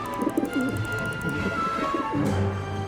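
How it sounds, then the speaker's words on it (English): Soft repeated cooing of a pigeon in the video game Syberia: The World Before, a steady low murmur of coos over a faint background ambience, with no talk. "How am I supposed to get rid of that pigeon?"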